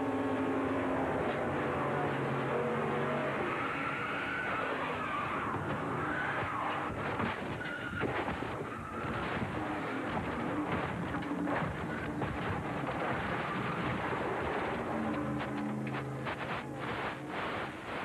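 In-car race car at Daytona during the 1996 ARCA 200, its engine roaring loud and continuous from inside the cockpit as it shifts up through seven gears, with rising and falling pitch steps across the run.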